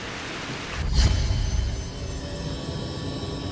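Rain falls steadily during a traffic jam, with a louder swell of noise around the first second before settling into a constant, moderate hiss with no talking.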